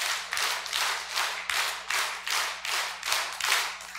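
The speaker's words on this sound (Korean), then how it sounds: "박수 10번 시작" A congregation at a Bible lecture claps together in unison, ten sharp, evenly spaced claps in a steady, brisk rhythm, close and clear with no talking.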